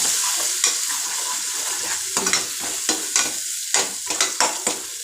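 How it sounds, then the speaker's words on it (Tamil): A spatula scrapes and stirs beaten egg mixture around a hot frying pan in uneven strokes, each sharp scrape standing out over a steady soft sizzle, with no one talking. "இந்த மாதிரி நல்லா கிளறிக்கலாம்"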